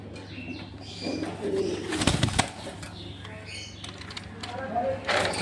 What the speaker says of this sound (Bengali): এখানে দেখতে পাচ্ছ আমেরিকান লক্ষা আছে তো রেড কালারটা আছে নর আর ইয়েলো কালারটা আছে মাদি